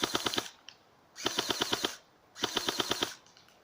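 Three bursts of rapid automatic gunfire, each a quick string of sharp cracks with brief pauses between, loud and close.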